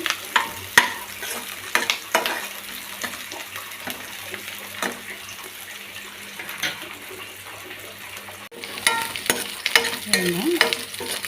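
Slit green chillies frying in oil for a banana curry, heard as a soft, steady sizzle broken by scattered stirring knocks and scrapes, fairly quiet and with no talk.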